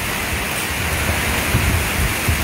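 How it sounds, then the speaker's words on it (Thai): Heavy rain pours down and splashes steadily, a dense, loud, unbroken roar with no voices. "พี่น้องฝนสาดพี่น้องวันนี้ฝนสาด"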